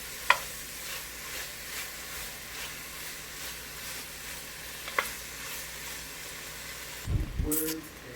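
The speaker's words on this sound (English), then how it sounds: "But we want to saute these." Vegetables, cabbage among them, sauté in a pot with a soft, continuous sizzle, a couple of sharp clicks and a short burst of stirring and scraping near the end.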